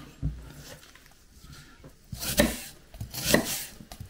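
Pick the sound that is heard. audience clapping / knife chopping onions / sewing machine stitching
knife chopping onions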